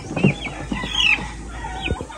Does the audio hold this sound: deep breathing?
no